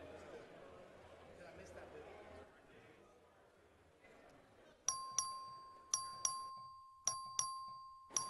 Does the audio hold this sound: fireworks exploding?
no